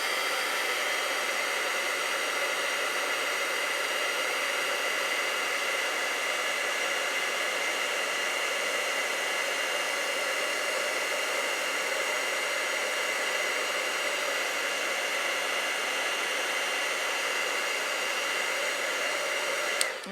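Heat tool blowing a steady, loud, unbroken stream of hot air onto embossing powder over hot glue, continuous for the whole stretch with no pauses or talk.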